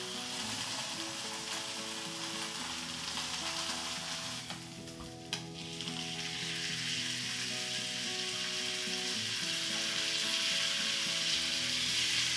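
Roast beef sears in a hot cast iron skillet, a loud continuous sizzle and crackle of fat that briefly dips when the meat is turned, then builds again, close by with no voices.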